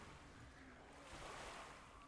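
Gentle water lapping ambience in the Guild Wars 2 video game, a soft continuous wash of surf-like water with faint wind, steady and moderately quiet with no talk.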